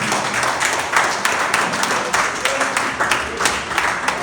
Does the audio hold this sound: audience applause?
yes